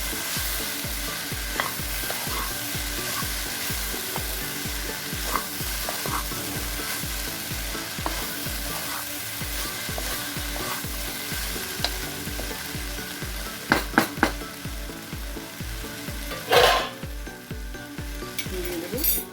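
A vegetable salad with capsicum being stir-fried in a pan: a steady sizzle under regular, rhythmic scrapes of a spatula, with a few sharper clinks near the end.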